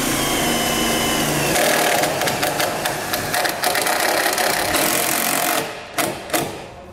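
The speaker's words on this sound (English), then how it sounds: "we're just going to run this down using the self-tapping screws that come included with our kit using an 8mm socket" Self-tapping screws driven with an 8mm socket while mounting a Roadmaster battery charge line kit for a towed vehicle, a steady close whirring drill sound running for several seconds before stopping, then a couple of short bursts.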